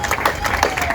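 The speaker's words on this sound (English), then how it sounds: "I think give them a round of applause." Audience applause at a gathering for the 9th Cure Brain Surgery Run, a brief burst of clapping mixed with crowd voices.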